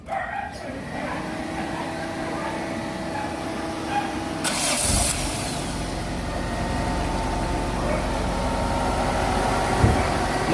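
A Toyota Corolla engine cranks and starts, then idles with a steady low rumble that grows slightly louder, close by.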